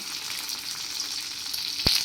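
Red chillies and curry leaves sizzle steadily in hot oil for a tempering, a continuous close crackling hiss with one sharp pop near the end.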